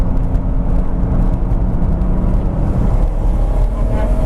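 A turbocharged BMW Z3 M Coupe's engine roars steadily under heavy acceleration, a loud continuous rumble with whirring boost, close and filling the whole recording.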